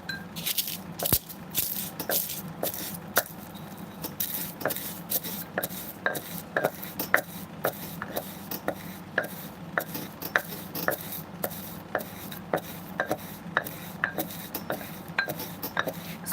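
Dried bugs collected on walks drop into a mortar and pestle, giving a long run of small, sharp clicks and rattles that come close and fairly clear over a steady low background hum.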